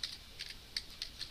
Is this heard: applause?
no